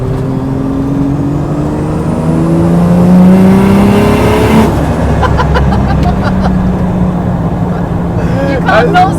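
693bhp 2JZ-engined Nissan Silvia S14a accelerating hard, heard from inside the car: a loud, rising engine roar climbs steadily in pitch, then the revs drop and a few sharp pops and crackles follow, with a voice in the cabin.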